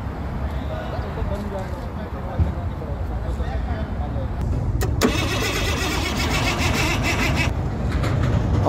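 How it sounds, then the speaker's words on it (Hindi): Car engine being started outdoors, cranking noise building into a running engine, with people talking over it throughout. "देखो गाड़ी स्टार्ट होने वाली है"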